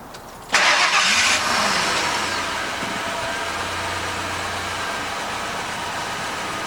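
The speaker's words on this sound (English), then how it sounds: "All you have to do is just turn the ignition over and turn the key to the set on position." A Ford vehicle running on compressed natural gas (CNG) cranks briefly, catches with a loud surge, then settles into a steady, close idle with no speech.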